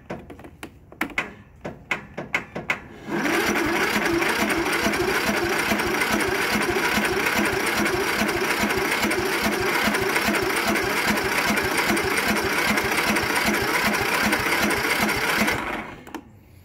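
A red Craftsman riding mower's engine fails to catch at first with a few sputtering bursts, then runs at a steady, loud, buzzing rattle for about twelve seconds before cutting out, with no talk over it.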